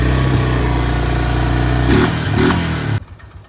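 A Honda Foreman 500 four-wheeler engine running rough, a loud, close, uneven idle with a brief surge of revs near the end before it cuts out abruptly.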